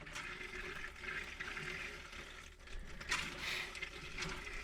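Antifreeze pouring and gurgling through the toilet plumbing of a fifth-wheel RV being winterized, a steady close rush of liquid with brief swells of splashing.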